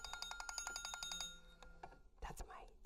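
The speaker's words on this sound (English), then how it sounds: "That's my timer to go off." A timer alarm goes off as a rapid run of loud, evenly spaced electronic beeps, then stops as soft voices take over at low level.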